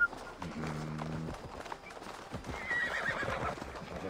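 A horse neighs loudly, then its hooves clip-clop in a quick galloping rhythm, with Assassin's Creed Valhalla game ambience and faint voices underneath.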